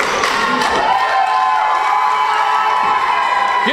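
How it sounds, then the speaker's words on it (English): A wrestling crowd at a UWC event cheers and shouts loudly and continuously, with scattered thuds and claps within the roar. "Getting the crowd fired up."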